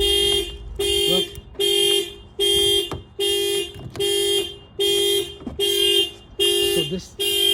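Factory alarm on a 2023 Toyota Corolla LE Hybrid, sounding as a loud, repeated electronic horn-like beep in an even on-off rhythm of about eight blasts, close by, with faint background voices.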